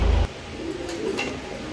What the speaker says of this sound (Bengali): এখানে এক পেয়ার লাহোরি কবুতর আছে লাল